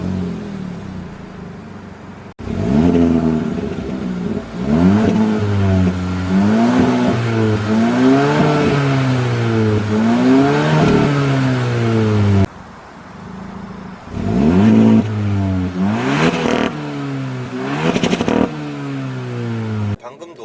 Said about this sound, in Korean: 주행을 시작하기 전에 여러분들한테 배기 사운드 한번 살짝 들려봐 드릴게요